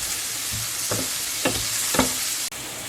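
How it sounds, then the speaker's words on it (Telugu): Onions sizzling in a pan while being browned for a mutton keema curry, a steady soft frying hiss with a few light stirring scrapes at regular intervals, close and alone. "ఆనియన్స్ని బ్రౌన్ షే బ్రౌన్ కలర్ షేడ్ వచ్చే వరకు వేయించుకోవాలి"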